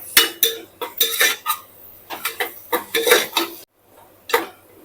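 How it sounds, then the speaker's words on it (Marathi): Green chili and garlic paste is sautéed with onion in a pan for Khandeshi masala khichdi. A spoon scrapes and clinks against the metal in quick, rhythmic strokes, close and fairly loud, with a brief pause near the end. "हिरवी मिरची लसूणचं ते टाकून घेऊया हे थोडस परतून घेऊया"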